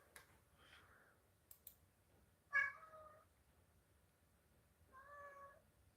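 A cat meows twice indoors, a short clear call followed a few seconds later by a second, longer meow, with faint clicks and quiet room tone between.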